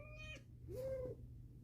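A female house cat named Kit Kat, whiny and over-dramatic, gives two drawn-out meows, the first short and the second longer and rising, close to the microphone with no talking over them.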